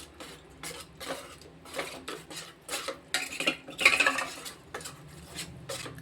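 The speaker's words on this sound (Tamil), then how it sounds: "கான்ஃப்ளவர் மாவு அரை அரை அரை கப்பு இந்த கிண்ணத்திட்ட வந்து அரைது போடுறோம் இதை வந்து நல்லா கரைச்சிக்கிறணும்" A spoon clinks and scrapes around a bowl as cornflour is stirred into banana leaf juice, in irregular bursts of close, fairly quiet metallic stirring.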